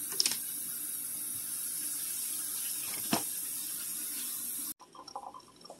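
Tap water runs steadily from a sink faucet into a glass coffee pot, a continuous close hiss with a brief clink partway, then cuts off near the end.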